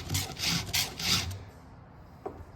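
Short rasping strokes of a file sharpening a chainsaw chain in an Oregon file guide, three quick close strokes followed by quiet and a faint tap.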